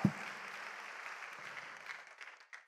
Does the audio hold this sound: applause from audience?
yes